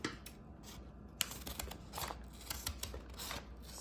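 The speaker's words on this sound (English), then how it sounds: "Okay, let's start snipping." Scissors snipping open the plastic of a kawaii food blind bag, a series of crisp close cuts with crinkling packaging between them and no speech.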